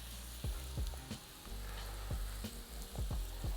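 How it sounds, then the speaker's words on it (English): Salmon frying in a well-oiled pan, a faint, steady sizzle with occasional soft clicks and taps of a utensil, heard close and without talk. "All right, go ahead and get that salmon right into the pan."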